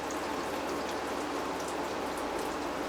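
Water runs steadily through an RV's hot water system, a continuous close hiss and patter that holds evenly throughout without any talk.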